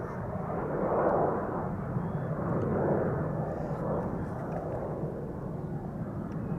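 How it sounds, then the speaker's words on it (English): A KLM Boeing 737 departs Amsterdam Schiphol for Marseille, heard as a faint, distant, steady engine rumble with gentle swells, without any speech. "737 leaving over there to Marseille, KLM flight 1465."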